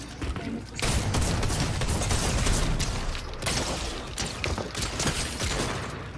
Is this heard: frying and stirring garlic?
no